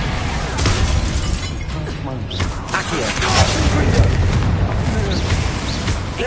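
Hogwarts Legacy spell combat, with blasts, crackling shatters and mechanical rattling in a dense, loud flurry of magical impacts, and a voice speaking over the fighting.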